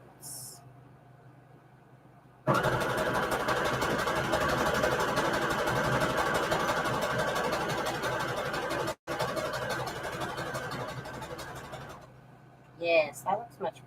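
A sewing machine stitches lace trim onto scrap fabric, running in one loud, continuous whir for about ten seconds with a brief stop partway, then halting before a short burst of speech.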